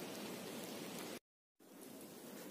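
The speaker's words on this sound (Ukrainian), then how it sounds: "починається мілкий дощ" Light rain patters in a forest with a steady, soft hiss, broken by a brief gap of silence before the faint drizzle resumes.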